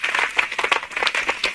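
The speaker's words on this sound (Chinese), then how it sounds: "来，我们给他鼓掌一下。" Audience members at a Seth talk in Taipei clap for a guest in a brief, lively burst, with individual hand claps standing out in a quick, uneven patter.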